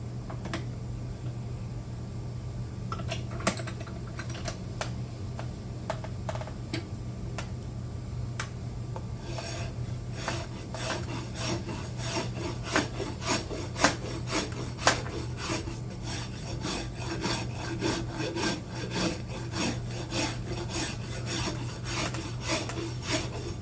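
A farrier rasp files a taper onto a wooden sledgehammer handle, close and steady: sparse scraping strokes at first, then dense rapid back-and-forth rasping with no talk.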